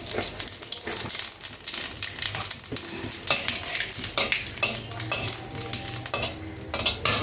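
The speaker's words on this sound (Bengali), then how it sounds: "তেজপাতা জিরেটা ভাজা হয়ে গেছে।" Bay leaves and cumin seeds sizzling and crackling in hot oil, with a spoon stirring and scraping the pan throughout; close and steady, no talking.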